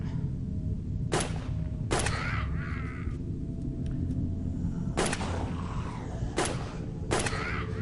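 Gunfire aimed at zombies in the video game Last Stand Dead Zone, five sharp shots in an uneven rhythm ringing out over a steady low background hum, with no talking.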